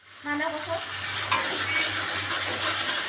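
Spice paste of Kashmiri chilli powder, turmeric and green chilli frying in oil in a pan, a steady close hiss and sizzle that starts abruptly and holds loud throughout.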